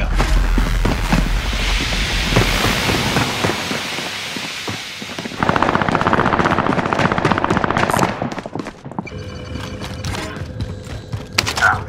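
Game gunfire in Call of Duty: Modern Warfare, with dense bursts of automatic fire and sharp single shots crackling through most of the stretch, loud and close, with a busier, brighter passage in the middle before thinning to scattered reports.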